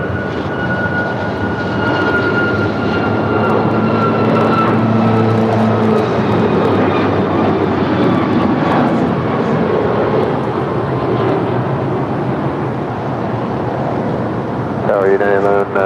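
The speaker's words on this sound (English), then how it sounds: "737 MAX 8 is our next departure." An Air Canada Boeing 737 MAX 8 on its takeoff roll departing Los Angeles International, a loud sustained jet engine roar with a whining tone, steady and close throughout, with a voice talking over it.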